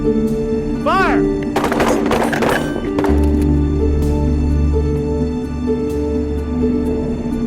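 Gunshots from hunters firing at boars out in the wilderness, a cluster of sharp cracks and rapid reports early on, followed by a low steady rumble and scattered fainter impacts.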